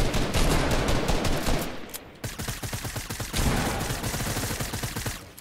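Rapid bursts of video game gunfire rattle close and loud, automatic sprays broken by a short pause near the middle before firing resumes.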